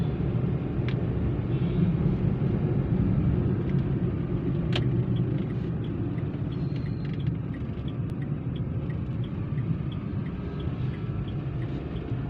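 A car drives through two-lane road traffic at night with a steady, loud low rumble of engine and road noise inside the cabin, a few faint clicks and passing sounds, and no speech.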